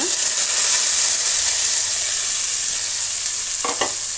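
Onion puree hits hot oil with urad and chana dal, producing a loud, steady frying sizzle and hiss throughout, with a couple of quick utensil scrapes near the end.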